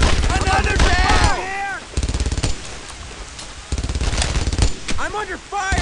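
Rapid bursts of rifle and machine-gun fire in a WWII battle on Hill 30 in France, 1944, from the shooter Brothers in Arms; loud, close, sustained volleys with shouted voices over the top.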